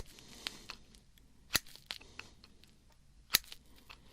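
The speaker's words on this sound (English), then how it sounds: "Let's finish trimming these hairs first." Small scissors snip nose hairs up close, giving soft, crisp, sparse snips and a couple of sharper clicks over near silence.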